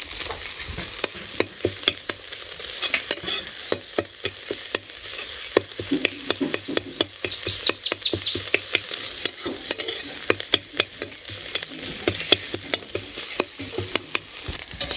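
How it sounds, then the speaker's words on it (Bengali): An egg fries in a pan and is scraped and broken into small crumbles, giving a dense sizzle with quick, rhythmic clicks of a spatula throughout. The sound is close and clear, with no voices. "ডিমটা প্রথমে ভেজে একটু ছোট ছোট করে"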